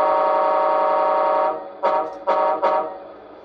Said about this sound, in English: If I use this right stick and sharply press upwards, gives you the air horn.